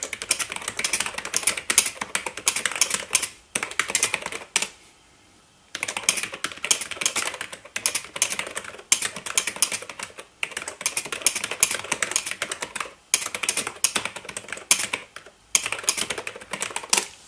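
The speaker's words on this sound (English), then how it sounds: "Let's type something else too." Keys clatter in steady bursts of typing on an Epson PX-4 portable computer's keyboard, close and crisp, with several short pauses between runs of keystrokes.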